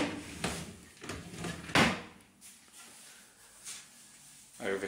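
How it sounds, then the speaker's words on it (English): Hotel room drawers at the Jaz Aquamarine in Hurghada are pulled open and pushed shut, giving a few close wooden slides and knocks, the loudest near the middle, over quiet room tone. "Drawers."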